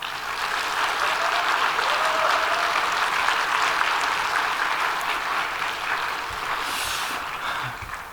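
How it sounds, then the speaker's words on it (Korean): Sustained applause from an audience at a church teachers' faith retreat, welcoming a professor to the stage; dense, steady clapping fills the whole stretch at a fairly loud level with no talk over it. "나오실 때 힘찬 환영의 박수로 환영해 주시기 바랍니다"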